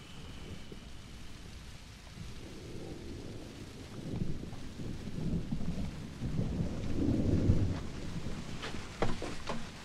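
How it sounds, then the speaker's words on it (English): Rain beginning to fall with low rolling thunder, a soft steady patter building gradually while deep rumbles swell and fade in the distance, outdoors in a drama film. "Starting to rain."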